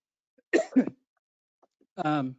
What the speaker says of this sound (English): there's my dry cough